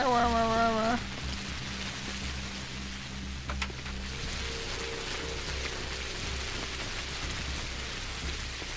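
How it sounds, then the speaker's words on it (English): Steady rain in the video game Pathologic, a continuous soft hiss of falling drops filling the whole stretch under a low game hum, with a brief tonal sound at the start. "enjoy the soothing sounds of the rain"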